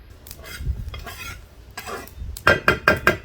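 Sesame seeds are dry-roasted in a pan, stirred with metal scraping and clinking, ending in several sharp, rhythmic taps and pops close by.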